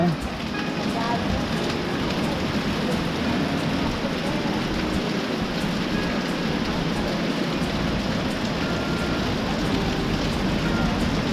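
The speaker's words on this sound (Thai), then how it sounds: "ตอนนี้ฝนตกแล้ว" Rain pours onto a balcony in a dense, continuous hiss and patter, loud and close, holding steady without a break.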